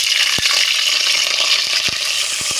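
Green chilies and a bay leaf fry in hot oil with a loud, close, continuous sizzling hiss broken by a few sharp pops and crackles.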